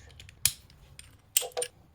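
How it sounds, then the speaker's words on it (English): Torque wrench tightening brake caliper bolts on an Aprilia RS660 or Tuono 660 motorcycle, set to 36 foot-pounds: a sharp metallic click followed about a second later by a short double click, close up with no talk. "So we'll get our torque wrench."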